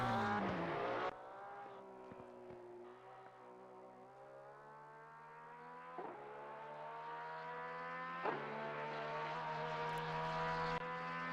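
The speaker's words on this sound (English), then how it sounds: "Rabel in the Porsche will be the last car out on track in free practice" A Porsche race car in a sim-racing league round at Paul Ricard drives through turns. Its engine drones steadily near and loud, with rising pitch on each gear and sharp shifts at about 6 and 8 seconds. No voices.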